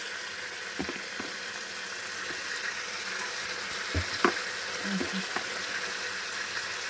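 Green peas fry in hot oil in a wok, a steady close sizzle with a few soft clinks and stirring knocks scattered through it, and no voices.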